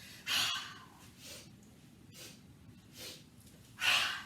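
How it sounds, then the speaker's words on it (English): Sharp, quick inhales through the nose during a Breath of Joy yoga exercise in a youth yoga class, a steady series of close breaths with two stronger, louder pulls. "Lift up the corners of your mouth as you're breathing in through your nose."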